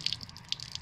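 Water flows from the tap on a 4x4 vehicle's water tank, a light trickling with scattered bright drips and splashes, fairly quiet and brief, with no one talking.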